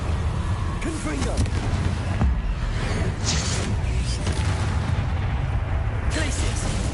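Confringo fire spell explosions in Hogwarts Legacy, a dense run of loud booming blasts and crackling bursts layered over continuous game noise, with a voice speaking over the action throughout.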